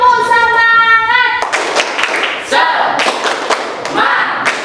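Children in a classroom perform a rhythmic spirit clap, a dense run of sharp hand claps in quick bursts with pauses, loud and close, following a sustained tonal sound at the start.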